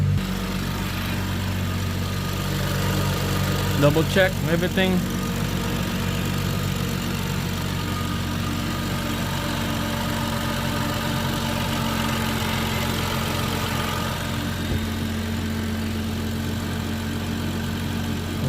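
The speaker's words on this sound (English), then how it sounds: "start the engine" BMW 3.0L N55 engine idling: a steady, low, smooth hum that holds even throughout, with a brief rattle early on and a short spoken remark over it.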